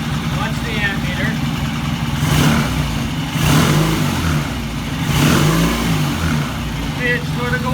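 A vintage British motorcycle engine idles steadily at about 700 RPM, then revs up in a couple of swells before settling back, with a voice talking over it.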